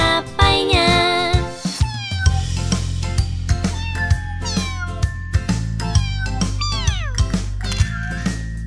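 Several drawn-out, sliding meows ring out over bouncy music with a steady, thumping bass line.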